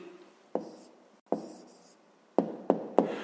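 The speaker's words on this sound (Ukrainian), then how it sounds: "Зараз записуємо тоді відповідь, пишемо відповідь." Handwriting with a pen on paper, five distinct scratchy strokes, each a sharp onset fading away, spaced irregularly with the last three coming in quicker succession, close and quiet with no talk.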